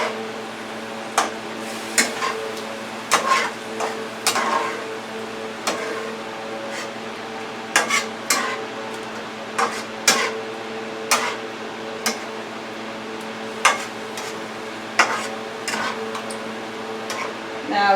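Pasta with ground sausage, tomato sauce and black pepper being stirred in a pan, with a spoon knocking and scraping at a loose, irregular rhythm over a steady background hum.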